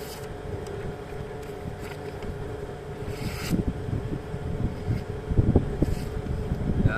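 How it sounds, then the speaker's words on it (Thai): Strong outdoor wind buffets the microphone with a steady low rumble, gusting louder toward the end, at an outdoor test of a Mong-style jungle machete in Tak province. "ลมแรง ลมแรงเดี๋ยวก่อน"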